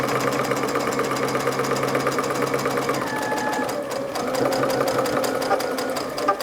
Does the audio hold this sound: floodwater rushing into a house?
no